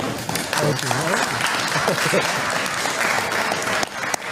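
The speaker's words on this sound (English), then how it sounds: "I didn't know they were allowed to applaud. They're allowed to applaud." A crowd at a live-streamed event claps continuously, with someone talking over the applause throughout.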